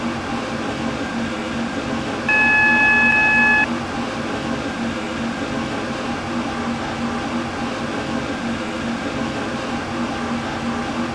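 A steady mechanical rumble of a metro train running in the video game Stepford County Railway, with a brief electronic chime-like tone partway through; no voices.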